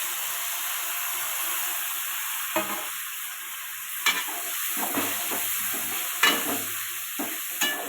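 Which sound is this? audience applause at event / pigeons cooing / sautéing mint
sautéing mint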